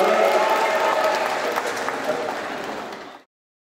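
An audience at an event in a hall honoring Ridwan Kamil breaks into dense, loud applause that holds steady, slowly thins, then stops abruptly.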